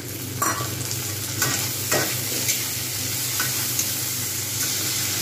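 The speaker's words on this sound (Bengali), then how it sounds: "এবার আমি এর মধ্যে কাঁচা লঙ্কা টমেটো দিয়ে দেবো।" Green chillies and tomatoes are tossed into a sizzling spice mixture for a Bengali rohu fish curry with radish, with a steady frying hiss and a few scraping stirs of a spoon in the pan.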